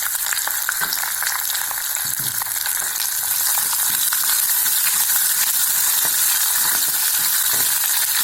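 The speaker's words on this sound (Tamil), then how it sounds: "நல்லா வாசம் வர அளவுக்கு நல்லா வதங்கணுங்க வெங்காயம்." Small and large onions sautéing in a pan for kuzhambu, a loud, constant close sizzle with occasional scraping and clicking stirs from a utensil.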